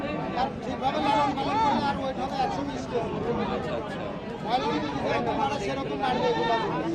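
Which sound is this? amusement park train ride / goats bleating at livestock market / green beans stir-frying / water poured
goats bleating at livestock market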